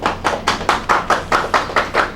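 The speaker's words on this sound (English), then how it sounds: "we have to clap for all of us" Hands clap in a brisk, even rhythm, about ten sharp claps close by with no talking, at a talk on ending nuclear weapons.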